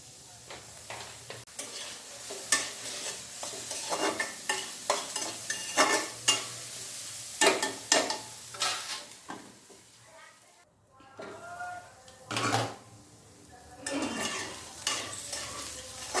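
Bottle gourd peels stir-fried with turmeric and salt give a soft sizzle broken by repeated scraping strokes of a spatula against the pan, with a brief pause before the stirring resumes; a voice talks at times over the cooking.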